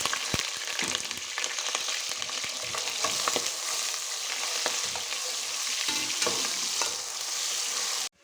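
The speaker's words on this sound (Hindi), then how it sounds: "ये एक प्याली डाली है मैंने ऑयल। अब डालूंगी इसमें अपने प्याज" Onions frying in a cup of oil for mixed dal tadka, a loud, steady sizzle with scraping stir strokes running unbroken before stopping abruptly.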